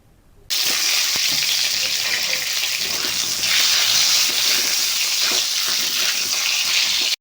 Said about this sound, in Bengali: আবারও ওই তেলের মধ্যে দিয়ে দিতে হবে আগে থেকে কেটে রাখা বেগুন। বেগুনগুলোকে ভালো করে ভেজে নিতে হবে।